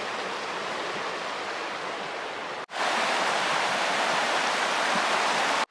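The River Tees in Teesdale flowing steadily, a broad continuous rush of water heard up close, with a brief break partway through before the rushing resumes.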